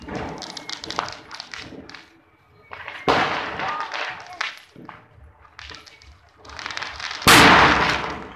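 Tri bomb firecrackers and other Diwali fireworks burst in sharp, loud pops and crackling volleys across a festive night, with people talking and calling out between the blasts.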